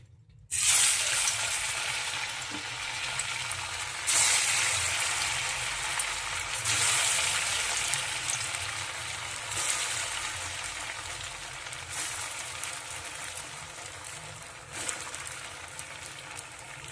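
Flattened rice (chire) pakoras frying in hot oil over a medium flame, a soft, steady sizzle that swells with each new piece dropped in and slowly tapers, no talking.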